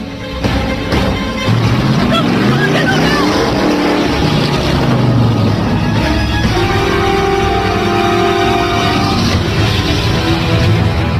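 Car driving fast toward a cliff edge in a dubbed Hollywood action movie chase, with a loud continuous engine roar and shifting pitch that fills the whole scene, mixed with dramatic film sound and some voices.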